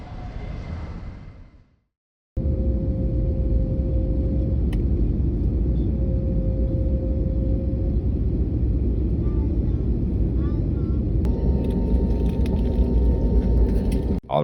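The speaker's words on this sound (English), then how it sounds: "we've just landed at Noi Bai International Airport in Hanoi" A passenger airplane lands at Noi Bai International Airport in Hanoi: a steady, loud low cabin rumble of engines and rolling wheels runs almost the whole time after a brief drop near the start, with a faint tone and small clicks on top.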